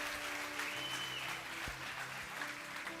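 A church congregation at a celebration service claps steadily for the whole stretch, a sustained even wash of applause with faint sustained music tones and a dull thump partway through.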